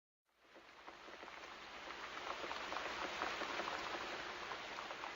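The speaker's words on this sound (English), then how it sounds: "Then it began to rain. It rained a lot, and the street gutters were full of water." Rain falling steadily on a street, a dense hiss of drops that starts abruptly and swells to a constant, moderately loud patter with no voices.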